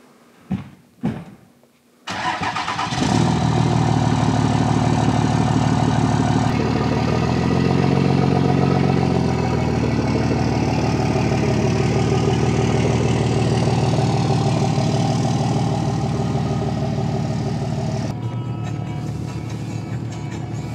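A boat's engine starts after a few bumps and knocks, then runs loud and steady for the rest of the stretch, its pitch shifting briefly midway, on a cold-water trout fishing outing in Central Oregon.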